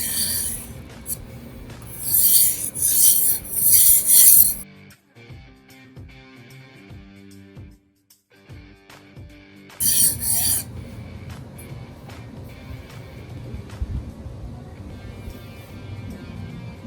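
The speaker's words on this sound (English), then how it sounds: "Okay, now I'm going to switch to the other side and try to reach a burr. This is still a 400 grit stone." A knife blade is sharpened on a 400 grit whetstone, giving close, gritty scraping strokes in two loud bursts separated by a quieter gap, with softer rubbing afterward.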